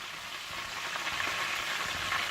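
Chicken drumstick lollipops frying in oil over low heat give off a steady, soft, even sizzle that runs the whole time, with no voices.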